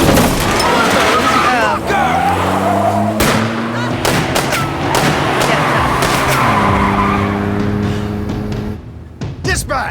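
Car skidding and crashing in the video game As Dusk Falls: a loud, continuous stretch of engine roar and tire-squeal-like tones with sharp impact bangs, mixed with game score and background chatter.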